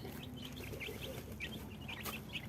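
Newly hatched chicks and hens peep and cluck softly and faintly, with scattered chirps over a low background hum.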